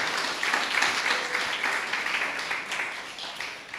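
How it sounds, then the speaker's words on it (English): Audience applause for a lecturer being introduced at a talk on Caribbean identity and Garveyism, a steady wash of clapping from a crowd that holds evenly for several seconds. "That deserves an applause"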